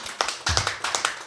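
Members of a church congregation clap briefly, with a few short, moderately loud bursts of hand claps arriving in quick succession and nobody talking.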